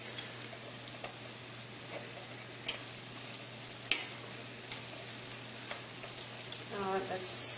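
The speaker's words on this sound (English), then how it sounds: "And you just fry it on each side until it's brown and then it should be cooked" Salted codfish fries in a pan with a steady broadband sizzle, broken by a few sharp ticks and pops and a brief utensil scrape near the end.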